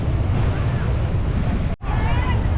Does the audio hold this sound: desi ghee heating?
no